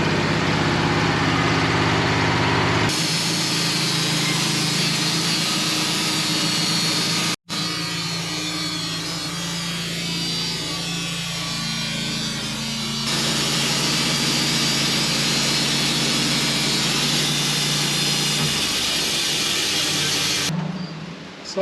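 A sawmill runs a steady cut through a knotty, rough spruce log for siding, taking a skim cut; the engine and blade drone loudly and evenly for most of the span, with a brief break partway through.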